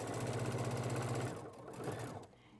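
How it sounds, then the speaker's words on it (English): A sewing machine stitches quilt fabric in a fast, steady mechanical whir that stops after about a second, followed by quieter handling sounds, close and faint. "Okay, so I'm just going to sew halfway."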